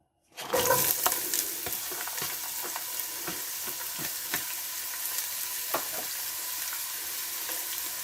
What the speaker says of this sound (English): So we're going to go ahead and caramelize our onions.